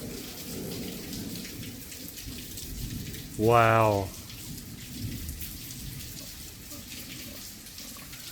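Heavy thunderstorm rain in south-east London pours steadily and loudly throughout, with water coming in through a window; a voice briefly exclaims partway through.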